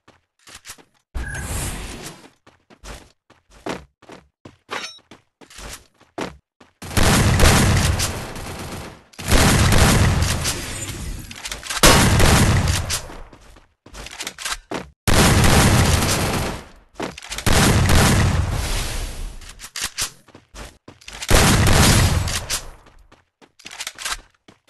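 PUBG Mobile gunfire rattles in repeated loud, close bursts of automatic fire, each lasting a few seconds, separated by short pauses and scattered single shots.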